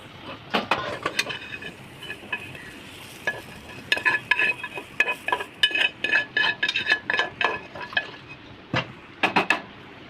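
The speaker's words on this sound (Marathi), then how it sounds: "त्याला छानपैकी भाजून घ्यायचं आहे आता मी याला भाजून घेते" Tomatoes and onions roasting in a pan, with a stream of sharp, close scraping and clinking strokes from a spatula against the pan in quick irregular bursts over a faint sizzle.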